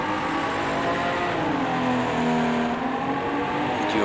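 Vintage touring race cars, including a Ferrari, run around the Texas Speedway oval, with a loud, continuous engine drone whose pitch shifts slightly as the cars pass and lap.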